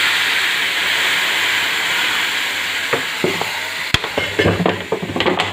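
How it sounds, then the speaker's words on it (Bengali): Water poured into a pan of cooking raw mango chutney sets off a loud, steady steamy hiss, followed near the end by a few clattering stir strokes; no speech. "এবার ঢেলে দিলাম জল।"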